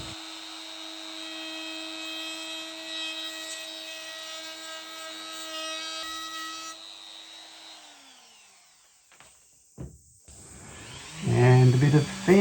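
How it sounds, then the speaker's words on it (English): A high-pitched power tool chamfering the edges of pallet wood whines steadily for several seconds, then winds down and stops, followed by brief clicks and a burst of rougher cutting noise. "Time for a spot of chamferisation."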